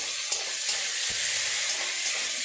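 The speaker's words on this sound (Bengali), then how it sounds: "নেড়ে চেড়ে এইভাবে টমেটো আর পেঁয়াজটাকে একদম নরম করে নেব।" Tomatoes and onions fry in oil in a pan with a steady, bright sizzle, broken by a few soft knocks of a spoon stirring, close and continuous without speech.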